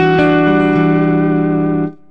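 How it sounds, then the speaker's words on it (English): Electric guitar through a Vox Cambridge50 amplifier with its tape echo effect engaged, a sustained distorted chord ringing loud with trailing repeats before cutting off sharply near the end, no talk. "So you hear the tape echo itself."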